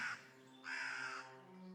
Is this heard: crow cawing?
yes